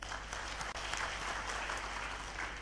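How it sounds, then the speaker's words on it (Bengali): Audience at a herbal products sales and dealers meet clapping for distributors, a dense continuous applause from a crowd, steady and even throughout, heard from within the room. "আমাদের সকল পরিবেশক বাইরের জন্য একটা করতালি দেওয়ার জন্য"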